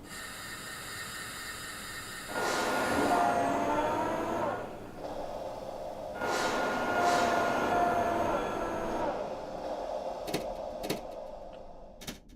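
A Japanese train in a train driving game runs with a steady rolling rumble and hum that surges, briefly drops away, then returns before fading to scattered clicks.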